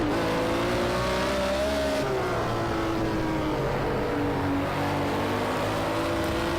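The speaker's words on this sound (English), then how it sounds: "All 4 tyres squealing as we're absolutely on the limit of grip." BMW M1 Procar at Brands Hatch in Project Cars 2, engine roaring steadily with a sustained high tyre squeal wavering over it as the car corners at the limit of grip.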